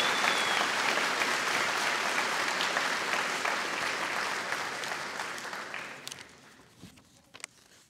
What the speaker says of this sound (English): So huge round of applause for you guys.